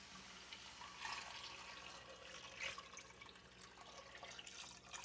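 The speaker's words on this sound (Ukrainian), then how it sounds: "Додаємо водички." Water pours into a cooking pan of briefly fried garlic for black bean soup, a steady, fairly quiet rushing splash that lasts about five seconds with no voices over it.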